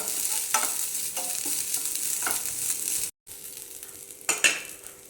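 Grated coconut is stirred in a pan for a Kerala unnakkaya snack, giving a steady, close scraping and rustling with a faint sizzle, broken by a brief silence and then a sharper scrape near the end.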